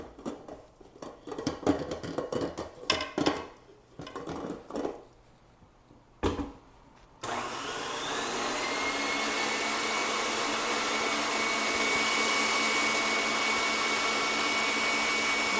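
An electric mixer beats egg yolks for a tres leches cake, starting after scattered clinks and handling noises and then running as a steady, close whirring drone to the end.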